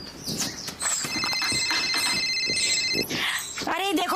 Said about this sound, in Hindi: अरे देखो तुम्हारा फोन घनघना आ रहा है